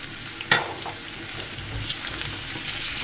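Potato and pumpkin frying in hot oil with a steady sizzle, a sharp scrape of stirring near the start and further light stirring and bubbling throughout, close and continuous.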